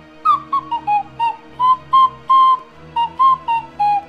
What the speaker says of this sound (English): I've got a slide whistle on my desk.